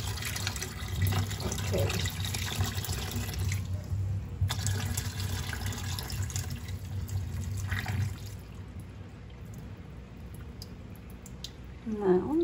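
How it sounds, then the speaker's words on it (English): Tap water runs into a sink while cilantro is rinsed, a close steady splashing stream that eases off partway through, with a brief spoken word near the end. "now let's rinse this again"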